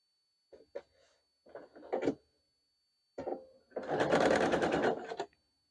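Sewing machine stitching a Barn Star sampler quilt block, several short bursts of stitching followed by a longer steady whirring run, close and clear with no talk.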